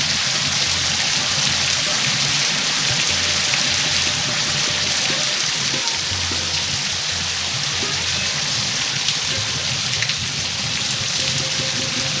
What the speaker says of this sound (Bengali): যখন কোনো বৃষ্টি কোথাও পড়ে আর সেখানে বাবুল ওঠে তার মানে সেই বৃষ্টি অনেকক্ষণ ল্যাস্ট করবে